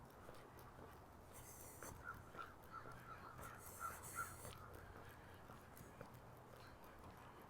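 Geese call overhead above Wascana Lake in Regina on a chilly September walk, a series of faint, distant honks spaced irregularly over steady outdoor background noise.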